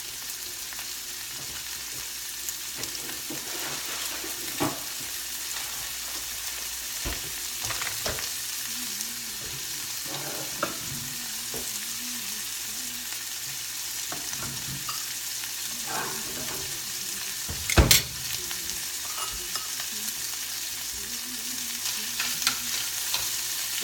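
Steady sizzling of shrimp in olive oil in a frying pan throughout, with occasional clinks and scrapes of stirring and a sharper clatter near the end.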